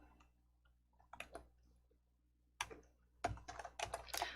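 Keys tapped on a computer keyboard while entering a file name, in short quiet clusters of clicks with pauses between them, ending in a denser run of keystrokes.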